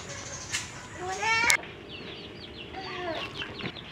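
Chickens clucking in a backyard pen shaded by banana leaves, several nearby bursts of clucks and squawks with quieter background calls, and a person talking faintly underneath.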